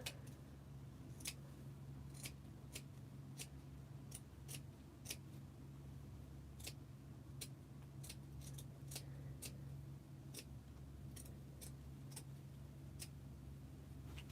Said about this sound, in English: One cut out, now just the other one.